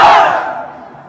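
A large crowd at a religious gathering roars a single loud chant of Nara-e-Takbir, one short burst that fades quickly into reverberation.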